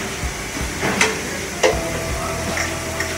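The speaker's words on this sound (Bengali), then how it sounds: "সবজিগুলো আমি ভেজে নেব, তার আগে দিয়ে দেবো কিছু স্পাইসেস।" Bell pepper, capsicum and tomato fry with spices in a pan, giving a moderate steady sizzle and hiss. A few sharp stirring clicks come through, close up and with no talk.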